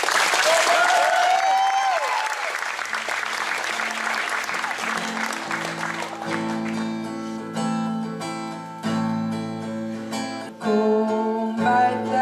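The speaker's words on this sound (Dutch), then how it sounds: "Ja, maar een applaus." An audience applauds loudly for several seconds, a dense clatter of clapping hands that fades out as music begins to play.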